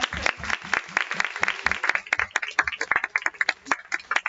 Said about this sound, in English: Can we clap for them for a second?